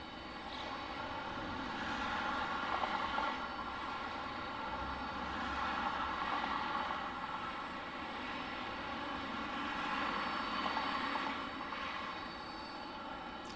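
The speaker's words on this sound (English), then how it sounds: "that is a Dassault Falcon 2000EX" A Dassault Falcon 2000EX business jet at Detroit Metropolitan Wayne County Airport in Romulus gives off a steady, loud, broadband engine roar that swells gently and holds for the whole stretch, with no talk.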